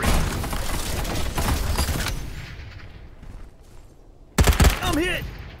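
Artillery fire in the battle game Farlight 84: bursts of gunfire over game voice lines, then a quieter lull before a sudden loud impact blast near the end.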